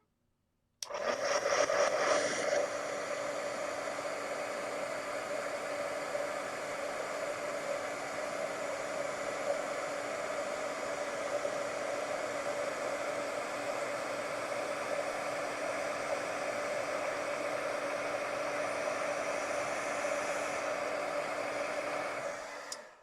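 A heat tool for melting embossing powder switches on and blows with a steady, loud, breathy whoosh for about twenty seconds before cutting off, with no talking.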